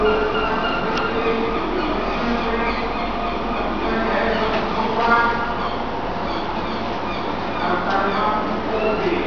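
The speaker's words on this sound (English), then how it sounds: "Cardiff Railway Station, Cardiff South Wales." Busy platform at Cardiff railway station in South Wales with a train present, a steady rumble and hiss filling the space, faint clatter and brief squeals, and voices and announcements mixed in throughout.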